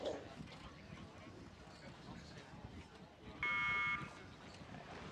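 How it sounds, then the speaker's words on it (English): A single flat electronic start buzzer at a U19 world championship rowing race sounds for about half a second, sharp and clear, over a faint murmuring outdoor background. "It's the buzzer, the green light"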